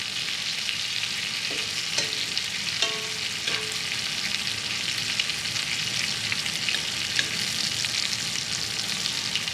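Steak and shrimp pan-searing with parsley in a hot pan, a steady loud sizzle running throughout with a few brief clinks of utensils stirring, no voices.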